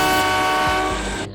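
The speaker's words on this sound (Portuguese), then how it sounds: "o trem soltou um último apito," A train lets out a long, loud, steady whistle with a rich stack of tones, holding for over a second before cutting off abruptly, with no voices.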